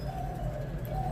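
Caged pigeons coo softly, a low steady murmuring under faint background hum, brief and fairly quiet.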